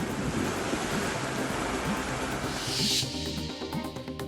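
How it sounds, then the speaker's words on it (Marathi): Strong, steady wind from a sudden night storm with rain roaring with broadband rushing noise throughout, buffeting the microphone, with a gusty swell midway. "रात्री अचानक सुरू झालेल्या वादळी वाऱ्यासह पावसाने नागरिकांची उडाली तारांबळ."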